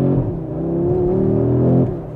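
A 2022 Audi RS3 with a five-cylinder 2.5-litre TFSI petrol engine revs loudly and close by, its throaty tone climbing steadily before dropping off near the end.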